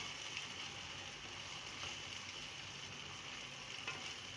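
A spoon gently stirs roasted okra masala in a pan over a steady, soft sizzle, with faint scrapes now and then and no talking.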